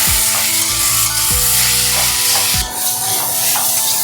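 Grated beetroot sizzles loudly in a hot pan for beetroot chutney, with stirring strokes scraping through the steady frying hiss; no voice is present.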